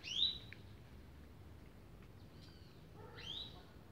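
Faint bird chirps from pet canaries kept in a home cage, a bright call at the start and a few thin twittering notes near the end over low background hum.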